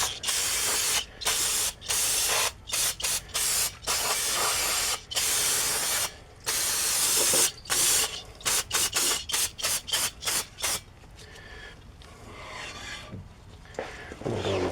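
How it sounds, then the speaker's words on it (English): Brake cleaner hisses from an aerosol can onto the rear brake rotor of a 2007 Chevy Impala, a rapid series of short, loud spray bursts with brief gaps, then quieter rubbing and handling noises at the end. "we got some brake clean for the rotor"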